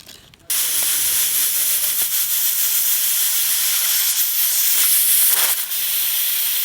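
A pressure cooker full of mutton curry lets off a loud, steady steam whistle, a bright sustained hiss that starts abruptly and runs for several seconds with a brief dip near the end.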